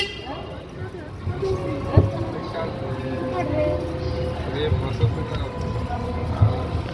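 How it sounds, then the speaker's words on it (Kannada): An electric train departs platform 5 at Davanagere station with a steady rumble of rolling wagons and occasional metallic clangs, while voices carry on nearby over it. "ಬಿಡ್ತು ನೋಡ್ರಿಪ್ಪ ಟ್ರೈನ್."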